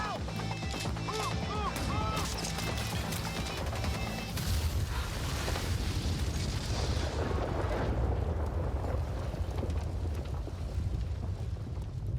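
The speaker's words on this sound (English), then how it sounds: "Grenades." Grenade explosions in a dramatic music-video concept film: heavy, continuous booming blasts and rumbling fill the whole stretch at a loud, even level, with some voices mixed in.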